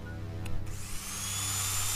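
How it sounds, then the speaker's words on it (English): A drill runs in the video game Stories Untold, a steady droning whir with a low mechanical hum beneath that rises slightly after a brief clunk, continuous and fairly close with no talking. "there's the drill going"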